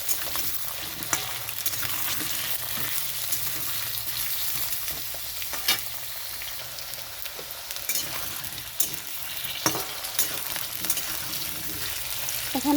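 Potato pieces frying in hot mustard oil in a kadai, a dense continuous sizzle with occasional sharper crackles and stirring sounds throughout, close and even.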